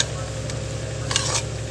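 Masala sautéing in a pan for biryani, a constant low sizzle with a brief stirring scrape near the end, close and steady with no voice.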